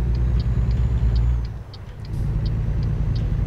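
Truck engine in American Truck Simulator, a loud, steady low drone close by that dips briefly mid-clip before building again, with faint high ticking clicks above.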